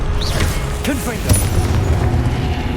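Confringo blasting spell cast in the Hogwarts Legacy video game, a loud booming burst over a steady bed of game ambience, with short whooshing sweeps around it.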